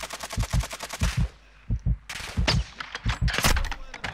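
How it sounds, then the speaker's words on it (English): Rapid automatic gunfire in Call of Duty Modern Warfare 2, loud nearby bursts of quick rhythmic shots, a pause, then more scattered shots and a heavier crack. "Someone's shooting."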